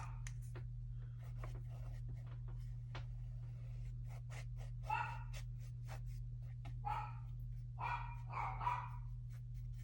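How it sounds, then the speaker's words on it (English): Dogs bark faintly in the distance, a few short yaps clustered in the second half, over a steady low electrical hum and small tapping sounds close by. "My doggies are gonna start barking."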